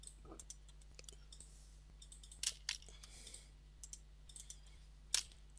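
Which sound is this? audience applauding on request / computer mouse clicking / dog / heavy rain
computer mouse clicking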